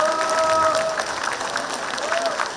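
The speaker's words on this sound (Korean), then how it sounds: "다 서로 박수를 쳐주시기 바랍니다." Applause from a Korean American Day celebration crowd rolls on steadily, a broad clatter of many hands with a voice briefly heard speaking over the start.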